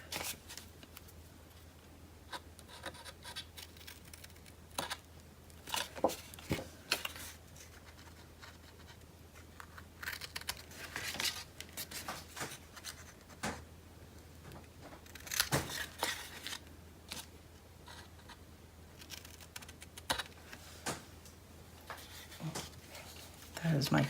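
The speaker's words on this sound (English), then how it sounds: "Take out your scissors." Scissors trimming the corners of folded paper in a paper-crafting session: scattered soft snips and paper rustles, quiet and close, irregular with pauses between cuts.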